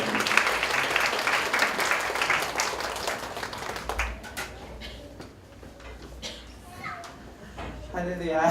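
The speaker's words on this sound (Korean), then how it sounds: "먼저 이반석 분 나오는데 박수로 좀 격려해 주시기 바랍니다." Applause from a church congregation at an anniversary worship service, a broad wash of clapping mixed with children's voices that fades after a few seconds as a speaker begins talking.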